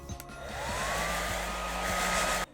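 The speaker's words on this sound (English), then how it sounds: "Blow dry it one more time." A hair dryer blows steadily at close range on a cheap wig with a constant whooshing roar and faint motor whine, then cuts off abruptly near the end.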